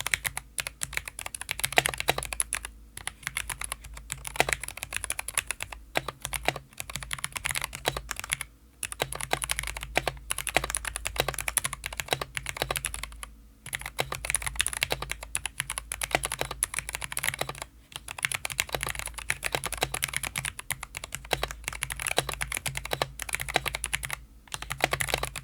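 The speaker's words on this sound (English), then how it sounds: "Let's go ahead and take a listen at the keyboard when typing." Steady typing on a Cooler Master CK720 65% mechanical gaming keyboard, with crisp close clacks in quick runs, short pauses between bursts, and no voices.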